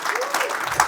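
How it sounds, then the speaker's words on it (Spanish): A congregation in church breaks into strong applause, a brief loud burst of massed clapping with a faint voice underneath. "Denle un aplauso fuerte a Cristo"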